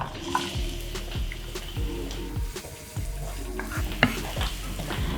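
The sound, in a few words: onions and garlic frying in oil in a pan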